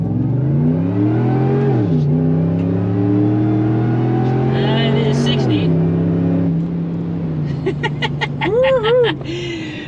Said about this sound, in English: We just spin the tires and it bounces and it's terrible.